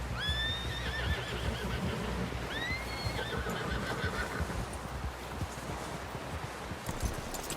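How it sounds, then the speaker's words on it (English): A horse in the Red Dead Redemption 2 video game whinnies twice over a steady bed of hoofbeats and outdoor ambience, moderately close. "Someone help John down off this horse."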